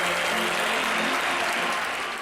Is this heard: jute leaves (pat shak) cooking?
no